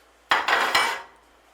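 A large metal frying pan clanks and scrapes a few times in quick succession as it is set on a stove, close by, then quiet.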